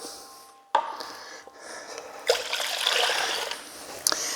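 Water poured into a bowl for a salmon brine, a short gurgling splash that swells and fades, quiet and near, with small clinks around it and no talk.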